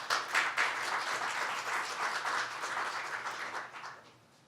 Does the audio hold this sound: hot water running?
no